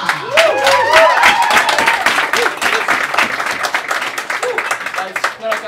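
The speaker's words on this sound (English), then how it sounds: "give a big round of applause for Chris from Tribeca" An audience at a cocktail competition claps and applauds loudly and steadily for a competitor, with crowd voices mixed in throughout.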